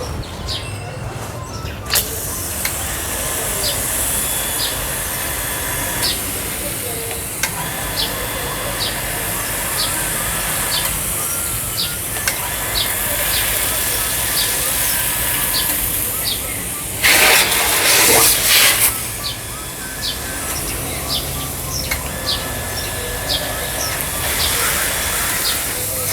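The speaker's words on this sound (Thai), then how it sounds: "อันนี้คือเสียงของปั๊มนะครับ" A steady mechanical hum from a running automatic water pump, with a faint repeating ticking pattern and a brief louder whoosh partway through.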